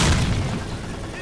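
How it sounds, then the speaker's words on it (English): A grenade explodes in the video game S.T.A.L.K.E.R. Call of Pripyat, one loud, close, deep boom right at the start that rumbles and fades out over about a second. "Oh, that's a grenade."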